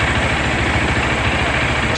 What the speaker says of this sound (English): So the fan has switched on.